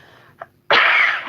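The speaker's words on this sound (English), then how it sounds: "Of course, I start coughing as soon as I go live." A short, sharp burst of coughing or sneezing erupts after a brief quiet intake, loud and close.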